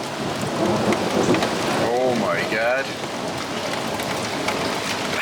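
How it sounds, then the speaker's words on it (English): A summer thunderstorm with steady rain and thunder, heard after returning home from a motorcycle ride, with rain hissing continuously throughout and someone speaking briefly over it. "Thunder and lightning."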